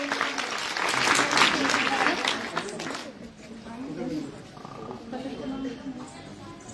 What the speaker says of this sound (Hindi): जोरदार तालियां हो जाए उनके लिए।